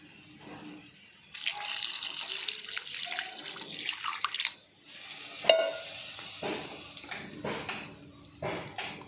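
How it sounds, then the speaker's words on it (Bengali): Water poured into a cooking pot of salted potatoes, set to boil for a prawn curry, splashing and gurgling up close in several uneven bursts with short pauses and a brief clink partway through. "এবারে আমি জল ঢেলে দিচ্ছি"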